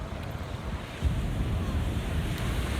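Rough sea waves breaking along a rocky, cave-lined coast, a steady broadband wash that swells louder after the first second, with wind buffeting the microphone and no voices.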